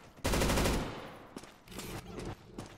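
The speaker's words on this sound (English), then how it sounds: "Now I'm going to shoot that guy." Rapid burst of automatic gunfire in the video game Counter-Strike 2, loud and dense for about half a second, followed by a few scattered quieter shots and clicks.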